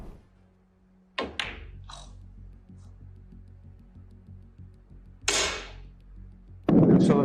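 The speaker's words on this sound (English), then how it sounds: "he aggressively snaps his cue against the table" Snooker cue struck hard against the table during a professional match, a few sharp wooden thunks and knocks, isolated and close, with a loud final impact.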